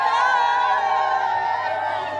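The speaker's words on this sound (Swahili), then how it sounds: "Jamani vigelegele." Wedding guests ululate in a sustained, high trilling chorus that fills the space continuously at close range, with crowd cheering mixed in.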